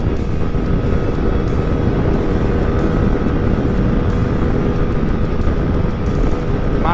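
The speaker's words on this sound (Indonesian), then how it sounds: "Ini lihat teman-teman, dan knalpot ini pakai gigi 3." A motorcycle fitted with a Qala Performance racing exhaust roars steadily in third gear at over 90, a loud unbroken engine drone without talk.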